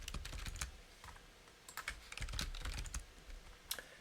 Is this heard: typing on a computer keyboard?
yes